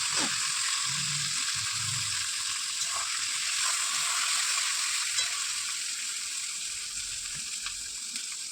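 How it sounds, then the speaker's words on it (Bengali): Onions sizzle in a hot pan, a steady, close crackling hiss that continues without a break and with no voices. "এবার পেঁয়াজটা লাল লাল করে ভাজবে।"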